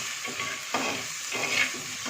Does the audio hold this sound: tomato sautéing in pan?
yes